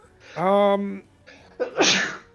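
A single sharp sneeze bursts out near the end, just after a short voiced sound, during a tabletop role-playing game session indoors; the sneeze is loud, close and alone.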